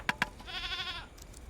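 A goat in the video game Card Survival: Tropical Island lets out one clear, quavering bleat, preceded by two quick tapping clicks. The cry stands alone against a faint background with no voices.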